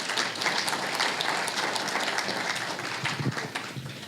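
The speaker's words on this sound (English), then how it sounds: "Give Marios and Salvo Strategies another round of applause." An audience claps in a dense, steady burst of applause that fills the room, close and loud, slowly thinning toward the end without any talk over it.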